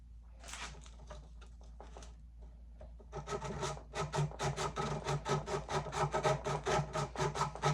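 Steady rhythmic rasping of sandpaper scrubbing over a cast metal crown, starting light and intermittent, then growing into brisk back-and-forth strokes.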